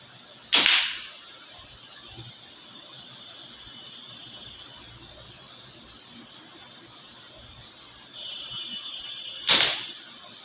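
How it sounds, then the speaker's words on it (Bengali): A double-nut demon-head slingshot with rubber bands fires 8 mm ammo at a target: two sharp, snapping shots about nine seconds apart, each a crisp close crack over a quiet background. "2টা শ্যুট করেছি, 2টা শ্যুটই টার্গেটে লেগে গেছে।"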